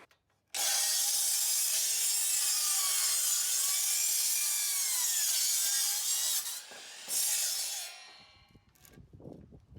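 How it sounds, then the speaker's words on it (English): Wooden boards for a raised garden bed being cut into 36-inch strips, a loud continuous rasping cut of about six seconds, a brief pause, a short final burst, then faint clatter as it ends. "now that we've actually cut these into 36-inch strips"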